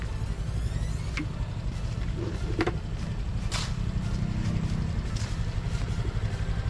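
A motorcycle loaded with heavy cargo, a 25-kilo sack of rice and a box, rides a rough, uneven dirt road. Its engine drones steadily throughout, broken by scattered rattles and knocks.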